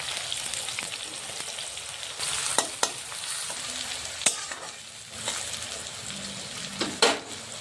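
Chopped onion dropped into hot oil already tempered with dried red chilli, cumin seeds, bay leaf and green chilli, for a mutton curry; a steady close sizzle and crackle runs throughout, with a few sharp spatters and utensil clinks.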